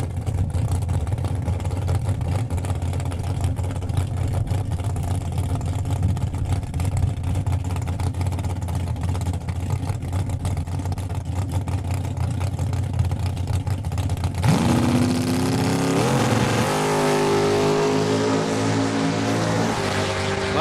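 A 1967 Camaro and other drag race cars launch at a Saskatchewan drag strip, a steady engine roar building into a loud, rising rev as the cars pull away near the end.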